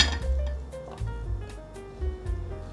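A spoon mixes mashed taro with stir-fried filling in a large bowl, giving soft squishing strokes and several sharp clinks against the bowl. Faint background music plays underneath.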